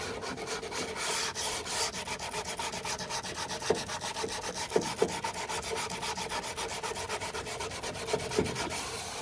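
180-grit sandpaper is rubbed by hand over a filled patch on a Mk2 Escort door sill, making a close, steady, rhythmic scratchy rasp of repeated strokes with a few light knocks.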